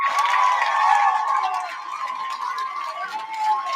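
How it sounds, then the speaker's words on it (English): A crowd cheering in a replayed political speech clip, a dense roar of voices and whoops that stays loud and steady, slightly boxy and distant as if played back from a recording. "you're surprised that they're cheering"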